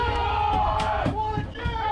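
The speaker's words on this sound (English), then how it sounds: "Crowd goes wild." Crowd cheering and whooping aboard a fishing boat during a wahoo tournament off Staniel Cay, several voices yelling together loudly and continuously, close up, with deep boat noise underneath.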